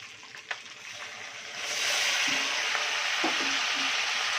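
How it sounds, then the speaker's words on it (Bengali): Ground onion paste hits hot oil and breaks into a loud steady sizzle that swells after a quieter start and continues close up, with faint stirring scrapes. "এবার পেঁয়াজ বাটাটাকে একটু লাল লাল করে ভেজে নেব।"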